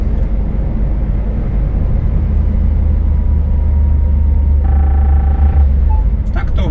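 A car engine climbs uphill on the Kultuk pass, a steady low drone with road rumble heard from inside the cabin, a brief tonal hum near the end.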